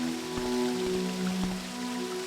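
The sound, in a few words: footsteps walking in a video game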